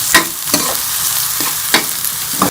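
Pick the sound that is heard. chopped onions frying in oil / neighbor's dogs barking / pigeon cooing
chopped onions frying in oil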